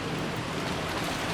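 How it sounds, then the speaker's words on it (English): Steady rain falls in the Umineko visual novel game, a continuous broadband hiss with no breaks that stays at an even, moderate level throughout. "Maybe the rain had died down a tiny bit since the previous night"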